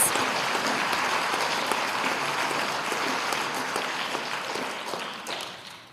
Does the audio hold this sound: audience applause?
yes